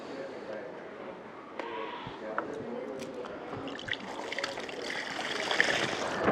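Water, about a liter, pours and trickles into a mixture of half a kilo of ingredients for a bio enhancer, a close, continuous splashing stream that gradually grows louder.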